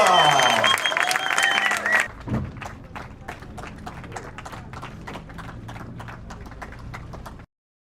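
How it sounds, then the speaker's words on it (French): Clapping for sailors Thomas Coville and Benjamin Schwartz at the Transat Café L'Or finish in Fort-de-France at night: a loud burst fades, then scattered individual claps continue, mixed with crowd murmur and a low thump. "des applaudissements pour Thomas Coville et Benjamin Schwartz"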